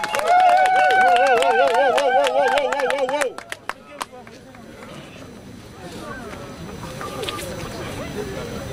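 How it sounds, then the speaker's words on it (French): A crowd at a street demonstration in support of the FARDC breaks into brief rhythmic clapping and cheering after a chant, then the noise fades into murmuring and scattered voices. "est-ce qu'on peut applaudir pour nous-mêmes"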